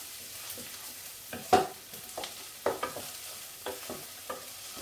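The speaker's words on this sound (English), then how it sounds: "Put tomato paste in there, mix that up." Tomato paste stirred into a lamb kofta curry in a pan, a low simmering sizzle broken by several distinct scraping and clinking strokes of a spoon, close and fairly quiet.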